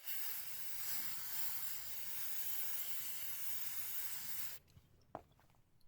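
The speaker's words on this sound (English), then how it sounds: "you'll want to clean the throttle body port and the chambers to the idle air control valve" Throttle body cleaner sprayed in a steady aerosol hiss into the throttle body port of a Toyota pickup 4Runner with a surging idle, running continuously for several seconds before stopping abruptly, followed by a few faint clicks and a short tap.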